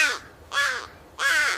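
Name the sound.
crow cawing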